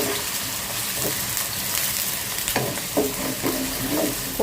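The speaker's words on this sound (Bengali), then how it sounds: "এই যে এখানে মাছটা লবণ আর হলুদ দিয়ে মাখায় রাখছি, মশলা কষাবো আর মাছ ভাজবো" Coral fish rubbed with salt and turmeric fries in a pan with spices, giving a steady, close hiss of oil with occasional stirring scrapes and small pops.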